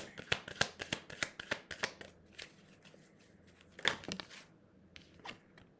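Tarot cards being shuffled for a reading: a quick run of crisp riffling flicks, then sparser slaps and snaps, close and fairly quiet, with no talk.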